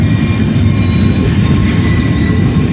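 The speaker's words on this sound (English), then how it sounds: "So I don't know if we call this a meet or one passing another or a train race" Two trains passing each other, a loud, continuous rail roar with steady wheel rumble and faint thin squeals riding above it, no voices.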